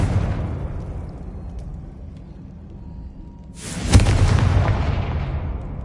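A Confringo explosive spell blast in the video game Hogwarts Legacy, a sudden loud burst about two-thirds of the way in that rolls into a sustained rumbling roar over steady ambient noise.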